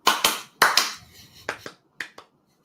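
Several close, crisp hand claps land in small clusters with short silent gaps between them, loud and dry in a room, with no voices over them.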